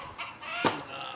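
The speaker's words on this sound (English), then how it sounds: "Chickens are not happy with us." Chickens cluck in a short, agitated outburst with one sharp squawk, heard close and fairly quiet on a homestead.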